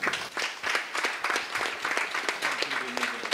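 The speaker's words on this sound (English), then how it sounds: "Let's give the panel another round of applause for what they've shared." Audience at a regional resilience and development dialogue forum applauding the panel, a dense, fairly loud burst of many hands clapping that holds steady across the whole stretch.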